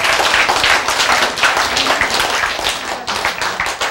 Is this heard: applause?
yes